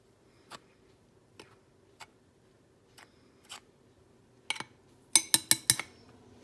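A spoon stirs dry baking soda, baking powder and cinnamon together in a bowl for banana bread: sparse, light clinks at first, then a quick run of sharper, louder taps near the end.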